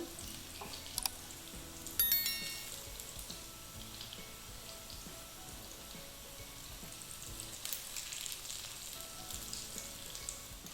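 Falafel patties sizzle and crackle steadily in hot frying oil as they are flipped one by one, with a few sharper clicks and spatters near the start and a constant close hiss throughout.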